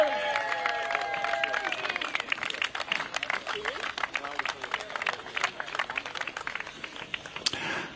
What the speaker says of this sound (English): a very, very special round of applause